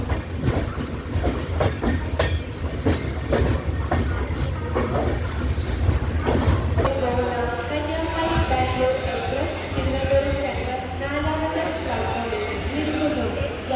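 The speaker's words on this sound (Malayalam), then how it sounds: "നാലാമത്തെ പ്ലാറ്റ്ഫോമിലാണ് ട്രെയിൻ വന്നത്." The Island Express rolls in at a station platform with rumbling wheels, clattering rail joints and a rising metallic squeal of brakes, loud and steady throughout, and a voice talks over it.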